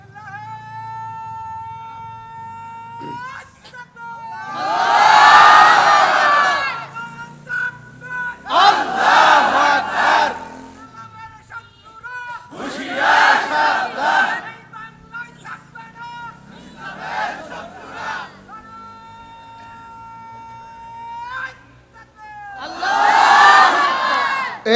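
At a religious sermon in Bengal, a crowd shouts the takbir slogan in repeated loud group responses, each swell of voices answering a single caller's lead, with a voice over a loudspeaker between the chants.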